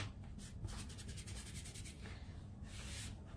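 A small squeegee rubs across a mini chalk transfer on a flat surface, giving a continuous soft scraping with quick back-and-forth strokes, close but quiet and steady throughout.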